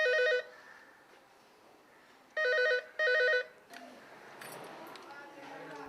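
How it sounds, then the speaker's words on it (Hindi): A telephone rings at a child helpline in India, a bright electronic ring heard in three bursts, with the last two close together. Quiet room noise lies between the rings and people start talking afterward. "1098 चाइल्डलाइन पे फोन आया है।"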